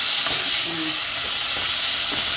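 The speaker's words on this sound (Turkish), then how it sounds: "Ya et şimdi kavruluyor ya." Meat sautés in a pan for Turkish hünkar beğendi, a steady loud sizzle and hiss with faint stirring clinks near the cook.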